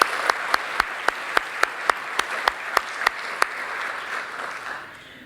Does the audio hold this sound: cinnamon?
no